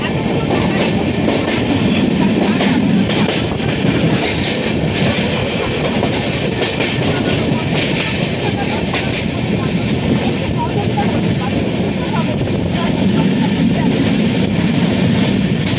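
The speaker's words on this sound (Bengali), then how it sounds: "আর আমাদের ট্রেন ছেড়ে দিল দক্ষিণেশ্বর থেকে" An Indian Railways Kanchanjanga Express with new LHB coaches pulls out of Dakshineswar station, producing a loud, steady rumble of wheels and carriages with faint clickety-clack that runs unbroken through the whole stretch.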